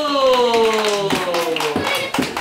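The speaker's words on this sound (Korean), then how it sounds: "와, 다 같이 박수!" Group of children clapping together in a daycare classroom, a burst of broadband claps overlapping with an adult voice and sustained sung or called tones.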